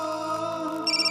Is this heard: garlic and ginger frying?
no